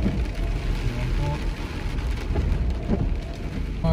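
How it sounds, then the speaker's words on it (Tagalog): Heavy rain pours steadily on a car while driving along a street in cold, wet weather, a dense continuous hiss and patter throughout with no wipers running, faint speech mixed beneath. "eto na, suungin na natin itong ulan na to"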